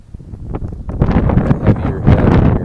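Strong wind gusts buffet an outdoor bank-fishing spot, rising from a soft rush into loud, continuous roaring bursts against the microphone, with no talk.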